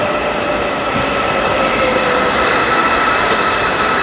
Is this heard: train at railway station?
yes